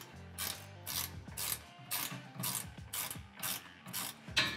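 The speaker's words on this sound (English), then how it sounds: "don't forget to go back and get these upper bolts with your 7/16 wrench." Ratcheting 7/16 wrench tightening bolts on a Kawasaki Mule Pro XT utility cargo rack, close and clear: about nine rhythmic bursts of fast clicking, each swing followed by a short pause, with no speech.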